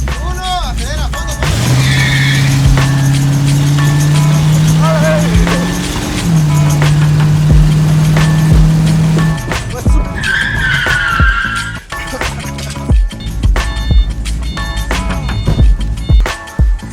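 Car driven hard during a driving exercise, with a sustained engine drone and tire squeal for several seconds, then a second squeal later, close and loud, with people talking over it.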